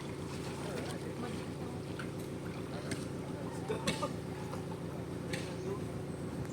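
A loaded boat's engine drones steadily at close range with water and wind noise around it, and voices call out now and then.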